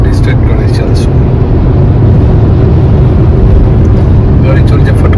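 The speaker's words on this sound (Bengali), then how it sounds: "গাড়ি চলছে" A car drives along a road at night, giving a steady, loud low rumble of engine and tyre noise that runs without a break, with muffled voices faintly beneath it.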